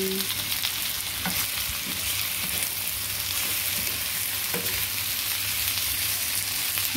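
Chicken wings frying with onion in a pan for Filipino adobo, a continuous dense sizzle with occasional clinks and scrapes of stirring, close and steady.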